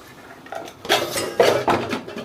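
A kadai pan is set on a stove before coconut oil goes in, giving a few sharp metallic clanks and scrapes in quick succession, close and moderately loud, with no speech.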